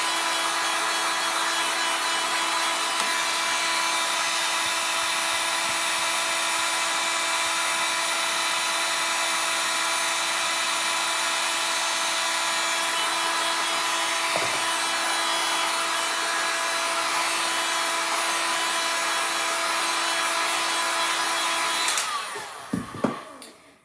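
A heat tool set low, blowing like a hair dryer, runs steadily with a constant whirring hiss, loud and close, before switching off near the end with a few clunks.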